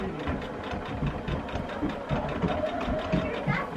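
Sewing machine running steadily while stitching a quilt, a continuous mid-pitched motor whir with faint rhythmic needle clatter, with speech present.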